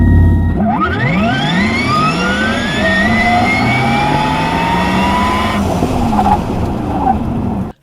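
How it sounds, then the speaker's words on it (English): A Porsche Taycan plays an artificial engine sound through its speakers while accelerating: a loud, close, whiny synthetic tone sweeps steadily upward in pitch for several seconds, then cuts off abruptly near the end. "It basically uses the speakers in the car to play like this fake engine noise so that when you accelerate"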